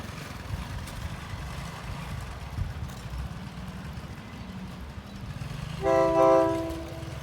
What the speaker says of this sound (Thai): ด่วนพิเศษที่ 43 นะครับ ก็เคลื่อนตัวออกจากชานชาลาที่ 2 นะครับ